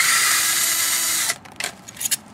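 A power socket tool whirs steadily as it unscrews a bolt from a cast aluminum sump pump being scrapped, then cuts off, followed by a few light metallic clinks and rattles nearby.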